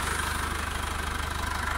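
A warmed-up engine idles under the hood of a used Mercedes C-Class W205 bought in Germany. It keeps a steady, fairly quiet low throb with an even pulsing rhythm, heard close and alone.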